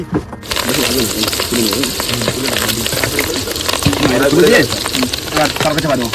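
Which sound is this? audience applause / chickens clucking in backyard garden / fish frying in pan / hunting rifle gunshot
fish frying in pan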